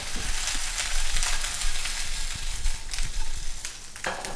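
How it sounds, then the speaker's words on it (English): Garlic and green beans sauté in a hot pan, a dense, loud crackling sizzle with frequent pops and brief stirring scrapes, fairly close and steady for several seconds, with no one talking. "I'm going to add the green beans, and they're just going to be in there to saute a little bit"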